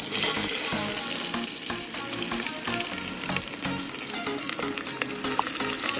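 Chopped zucchini and sausage cooking in a little oil over a backpacking stove outdoors on a cool, damp evening, a close, busy sizzle and crackle with frequent stirring clatter and no talking.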